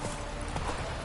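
Horse hooves clip-clop in quick, steady rhythm in The Witcher 3, close and continuous through a short burst with no talk over them.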